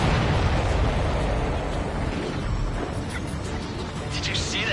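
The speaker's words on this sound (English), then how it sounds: "Did you see that explosion?" An explosion rumbles in the Ace Combat 7 video game, a dense, sustained roar of boom and debris filling the clip under jet noise and game dialogue.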